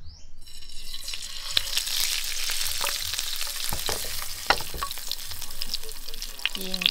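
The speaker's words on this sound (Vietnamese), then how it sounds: "Chiên cá." Fish fries in a pan with a loud, continuous sizzle and crackle, scattered sharp pops and spits breaking through the steady hiss, close up with no talk.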